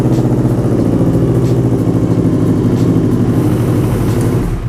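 CFMoto NK400 motorcycle engine running close by, a loud, steady mechanical rumble with clattering pulses and no talk.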